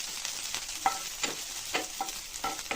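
Finely chopped garlic, onion and green chili frying in oil in a pan, a constant hiss with rhythmic scraping stir strokes about twice a second, close and steady, no talking.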